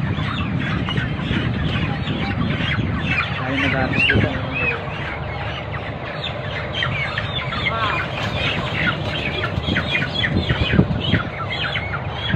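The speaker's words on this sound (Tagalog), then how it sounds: "Daming manok." A crowded flock of plump chickens at a harvest, clucking and squawking continuously and densely at close range, with someone speaking briefly over the din.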